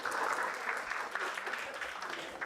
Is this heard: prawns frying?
no